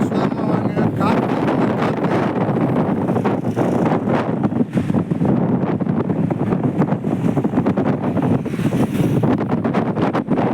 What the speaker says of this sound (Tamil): காற்று